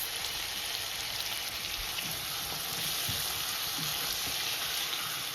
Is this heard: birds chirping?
no